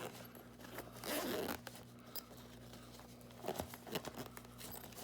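A zipper on the accessory bag of a Wattfun 300W solar generator pulled in two short bursts, close by and fairly quiet, with faint rustling between the zips.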